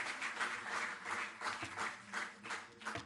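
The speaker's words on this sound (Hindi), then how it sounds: "जोरदार तालियों से आप इन खिलाड़ियों का अभिनंदन और सम्मान करें।" An audience applauds athletes coming up on stage at a government award ceremony. Steady, faint, continuous clapping swells and dips in soft waves, heard from a distance with no talk over it.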